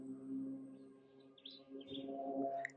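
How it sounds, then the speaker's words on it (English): Birds chirp outside a cabin in Negril, Jamaica, a few faint, scattered tweets over a soft, quiet background hum. "But listen to the birds,"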